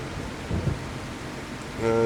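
Steady rain with low rumbling thunder in the farming video game Farming Simulator 25, a continuous close downpour with a swell of thunder near the end.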